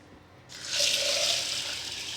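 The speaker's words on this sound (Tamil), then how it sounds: "தேவையான அளவு தண்ணி," Water pours into a container of parboiled rice set to soak overnight, a steady splashing gush that starts abruptly after a brief quiet moment and carries on, close and fairly loud, with no talk.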